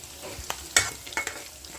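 Tempering seeds fry in a pan while being stirred, with a soft sizzle broken by a few sharp scrapes and crackles.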